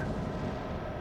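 A heavy booming roar of naval guns in the World of Warships Legends game, a single dense rumbling blast filling the whole short moment, loud and close.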